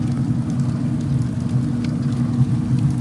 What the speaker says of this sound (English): I got rain right now, so I'm trying to get it done quick as it's starting to come down a little bit harder